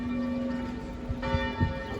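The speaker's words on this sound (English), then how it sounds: "Pretty bells though." Church bells ring out across a Swiss town near Mount Pilatus, a steady sustained tone with a few struck peals rising near the end, heard from a distance over faint outdoor ambience.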